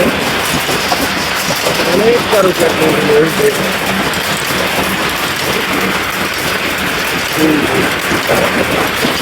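A village handloom weaving a lungi runs with a steady, loud mechanical clatter throughout, while someone talks over it.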